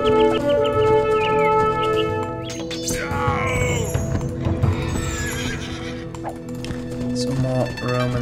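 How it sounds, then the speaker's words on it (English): Wild horses in the Age of Empires 2 game whinny and neigh over clip-clopping hooves, shrill calls rising above a busy layer of game music and effects, with someone talking now and then. "Wild horses."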